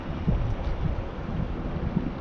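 Wind blowing across an open boat while bass fishing, a steady broadband rumble and buffeting on the microphone, continuous and fairly loud, with no voices.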